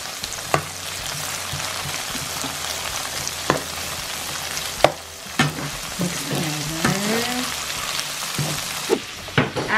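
Shrimp stir-frying with garlic and onions in a pan for pad thai, a dense hissing sizzle punctuated by sharp spatula clanks, a brief faint voice-like murmur in the background near the end.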